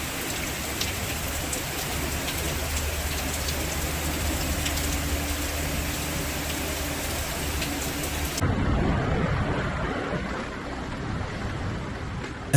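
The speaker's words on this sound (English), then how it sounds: "And still, the rain has not stopped completely." Steady, dense rain falling during flooding in Mexico, a continuous hiss of drops on surfaces that shifts in tone partway through, with no voices.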